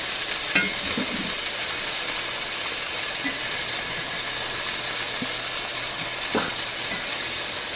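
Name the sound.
bread frying in a cast iron pan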